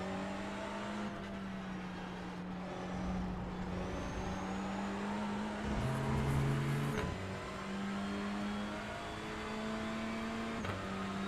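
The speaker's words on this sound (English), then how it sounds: "Got some slower cars racing up ahead." Touring car engines in the iRacing sim at Snetterton drone steadily at high revs, with pitch rising and dipping through shifts and a brief lower-pitched engine joining midway, loud and continuous with no talk.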